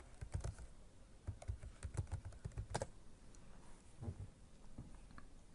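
Quick bursts of clicking keys on a computer keyboard, irregular typing with short pauses, close and fairly quiet.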